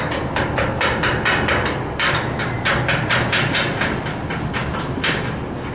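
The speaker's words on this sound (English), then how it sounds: "This is a standard chipping hammer for welders." Chipping hammer for welders striking rusted steel, giving a rapid series of sharp metallic knocks, loud and near, over a steady rumbling background noise.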